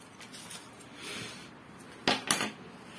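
Pruning pliers snip an orange bonsai branch in a pot, a couple of brief, sharp clicks close by against a quiet background.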